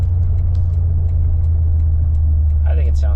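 Steady low engine drone from a Toyota Tundra pickup with a 5.7 V8 and a Flowmaster exhaust, heard from inside the cab while cruising as an even, constant hum, with a brief bit of talk near the end.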